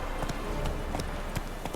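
Roach, a horse in The Witcher 3: Wild Hunt, gallops with a steady clip-clop of hooves over game ambience, and no one speaks.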